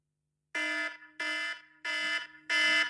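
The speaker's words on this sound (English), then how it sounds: "I have a timer here, and it runs for 5 minutes." A timer alarm signalling that five minutes are up sounds four evenly spaced electronic beeps, each a bright harmonic tone lasting about half a second, clear and alone in silence.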